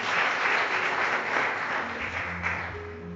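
Applause from a church congregation or Catholic gathering, a steady dense wash of clapping that stays loud throughout, with faint tones underneath near the end.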